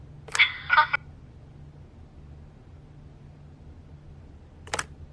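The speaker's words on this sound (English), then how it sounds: "Phone rings off the hook sometimes." A telephone rings in The Wolf Among Us video game: a short burst of ringing, then a long stretch of near silence over a low hum, then one more brief ring.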